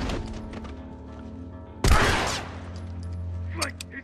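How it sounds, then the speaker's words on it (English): A single loud gunshot in The Last of Us video game, a sharp close blast that decays quickly, set against quiet background music and ambience, with a player's voice talking around it. "And I'm gonna shoot him."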